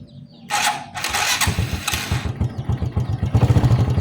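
A motorcycle engine cranks with a loud starter whir, catches and settles into a steady, close, throbbing idle during a test of its half-wave rectifier regulator.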